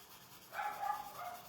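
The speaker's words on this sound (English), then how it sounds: "Kind of can hear something at the front door, so that's probably why she's barking." A pet dog barks indoors, a few muffled yips heard from another room against steady background hiss, fairly faint and not close.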